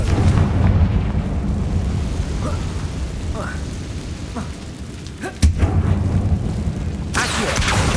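A Confringo explosive spell blasts in Hogwarts Legacy, a sustained rumbling roar with a sharp burst partway through followed by more heavy booming, while a voice speaks over the fight.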